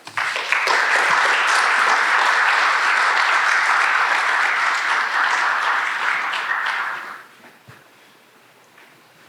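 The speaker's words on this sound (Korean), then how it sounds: "우리 김성모 관장님을 앞으로 모실 때 여러분 큰 박수로 맞이해 주시기 바랍니다" A seminar audience at a university faculty summer lecture gives loud, dense applause to welcome a guest speaker, holding steady for about seven seconds before fading to a quiet room.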